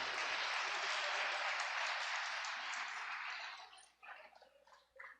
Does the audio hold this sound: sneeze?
no